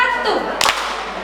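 Preschool children do a clapping pattern in a classroom, producing one sharp, crisp clap midway through, heard close against a backdrop of soft voices.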